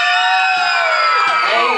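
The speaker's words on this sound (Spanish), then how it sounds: "Número 2, aplausos." A crowd at a band performance in Minneapolis cheers and whoops for contestant couple number two, loud dense shouting with whistles amid the live band's sound.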